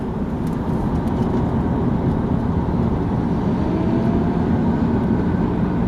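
Porsche 997 racing car engine roaring steadily at a distance, a continuous broad mechanical drone with no breaks, loud and sustained throughout.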